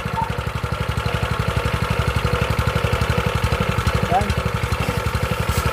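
A small Japanese engine driving a pressure washer sprayer idles steadily nearby, its rapid even low thump continuous throughout, with someone speaking briefly over it.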